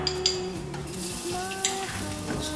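Onion sizzles in a thin drizzle of olive oil in a pan, a close, steady crackling hiss mixed with a few utensil scrapes and light pan knocks, without speech.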